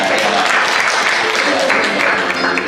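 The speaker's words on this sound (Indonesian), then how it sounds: "Ya, kasih tepuk tangan saudara." A church congregation applauds in a steady, even wash of clapping that fills the whole stretch at close range.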